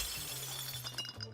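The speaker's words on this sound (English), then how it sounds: "the sounds of glass shattering echo through the entire bar" Glass shatters and tinkles in a bar, bright breaking fragments scattering over a low hum, a short, moderately loud burst.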